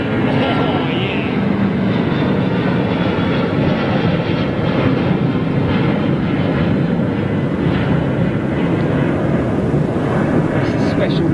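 A British Airways jetliner in special livery, powered by Rolls-Royce engines, departs London Heathrow with a loud, sustained, close roar that fills the whole stretch, with some wind buffeting on the microphone.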